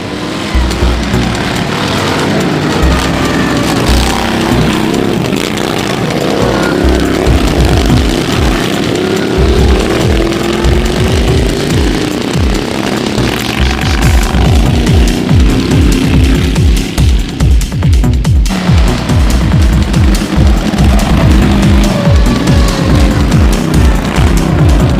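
Racing lawnmowers roar past at a lawnmower racing championship, engines loud and close, revving and buzzing as several machines pass one after another.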